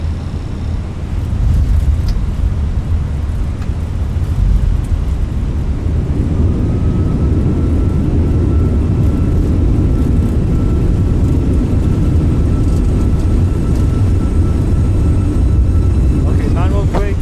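An airliner that has just landed in Bahrain after a flight from Larnaca rolls down the runway. A loud, steady roar holds throughout the rollout, with faint voices in the background.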